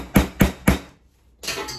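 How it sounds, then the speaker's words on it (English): Three sharp hammer blows on wood in quick, even succession, close by, followed by a short silence and then a muffled knock. "we're gonna go ahead and hammer it in"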